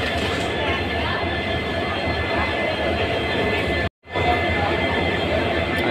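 Diesel locomotive noise at a busy station as a pair of WDP-4D engines arrives for coupling to the Patna to New Jalpaiguri Capital Express, a steady loud rumble with crowd chatter and talk throughout, briefly cut off midway.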